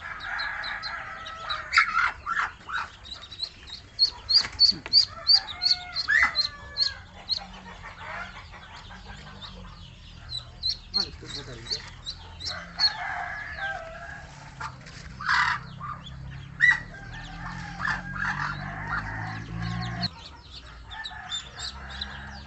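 Young chicks and ducklings chirping and peeping near and far at a poultry brooder during eye-drop vaccination, with a dense, continuous chorus of overlapping calls and occasional louder bursts, no talking.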